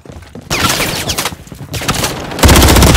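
Call of Duty gunfire crackles in dense, loud automatic bursts, a rapid fusillade that pauses briefly before erupting again even harder at the end.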